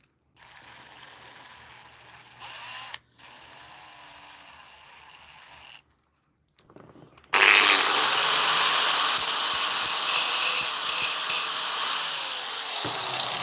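A power drill whirs in two short runs with a pause between, then a louder, harsher grinding burst follows after a moment of silence, while working thin stainless steel wire.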